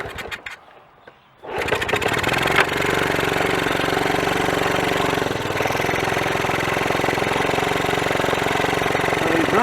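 A 1981 Honda CT110 barn find engine catches after a kick start and settles into a steady, loud, rattly single-cylinder idle, close by with no talking.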